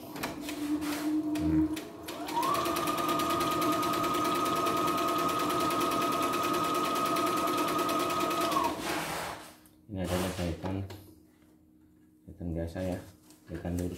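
A CNY E960 portable embroidery sewing machine stitches a zigzag pattern in a steady, loud mechanical whir lasting several seconds. Brief talk comes before and after the run.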